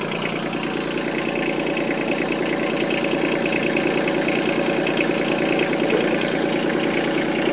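A Yanmar SC2450 tractor engine runs with its starter stuck engaged, giving a steady, loud, close mechanical drone with a constant whirring grind that stays even for the whole span.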